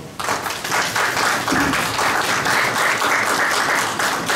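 A conference audience in Ghana applauds steadily, a dense wash of clapping hands that holds at an even level throughout.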